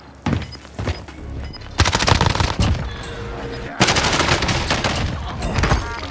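Bursts of M4A1 automatic rifle fire ring out in a Call of Duty Warzone match on Rebirth Island, long loud volleys with brief gaps between them, while a player's voice comes through faintly underneath.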